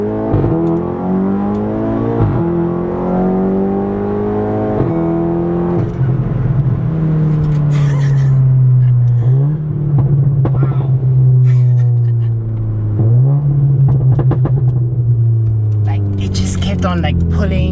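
A modified stage 2 MK7.5 VW Golf R accelerates hard through several gears, the engine note climbing loudly and dropping at each shift, with talk from inside the car over it.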